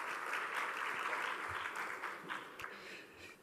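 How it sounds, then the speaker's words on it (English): Graduation ceremony audience in a university hall clapping together, a thick continuous wash of applause that holds steady and then tapers slightly at the end. "I wish you to give yourself a huge round of applause."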